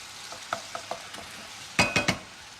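Sauce with Worcester sauce sizzles in a pan, a low fry under a few light taps, then three loud close bursts of hissing as liquid hits the hot metal.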